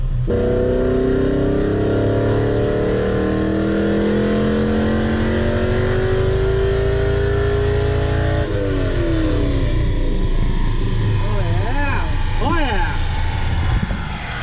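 A car engine on a Dynojet dynamometer revs hard and loud, pitch climbing steadily through the pull, then the throttle lets off and the revs waver and fall with rough burbles.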